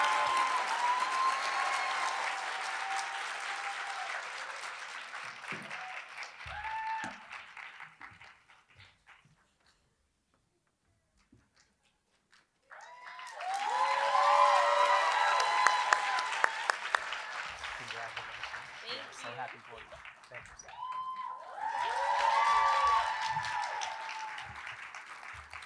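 Audience applause at a university alumni association scholarship awards celebration, swelling in several loud bursts with a near-silent pause between them, faint voices mixed in.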